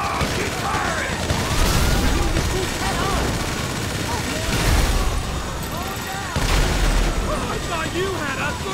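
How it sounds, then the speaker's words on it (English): Rapid gunfire and explosive booms from a bank heist shootout in the video game GTA V, sustained and loud with heavy bursts, mixed under shouting voices. "Come on, keep firing!"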